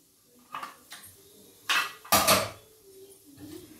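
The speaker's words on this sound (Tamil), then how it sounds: "நம்ம இப்போ குக்கர் மூடியை ஓப்பன் பண்ணி பார்க்கலாம்" Metal clanks and knocks as the lid of a pressure cooker holding cooked dal is handled and opened in a kitchen, a few sharp clattering hits with pauses between.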